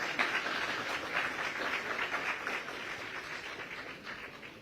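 Audience clapping in congratulation at a live interview with a newly elected young legislator. A steady, dense patter of many hands continues throughout at moderate, slightly distant volume, with no voices over it.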